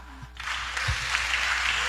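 A church congregation breaks into applause, swelling from quiet into a steady, broad wash of clapping after a brief low vocal sound.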